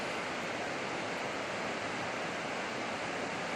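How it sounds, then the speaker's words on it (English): A river flows near a trailside campsite, producing a steady, unbroken rushing wash of water at even volume with no voices. "Got the river for sound all night."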